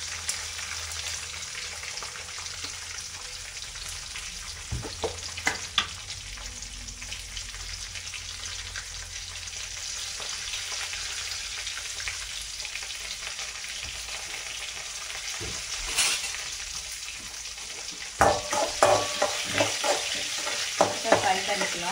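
Chana dal, peanuts and green chillies fry in oil for amla rice, a continuous crackling sizzle with occasional spoon stirs and scrapes, growing busier toward the end.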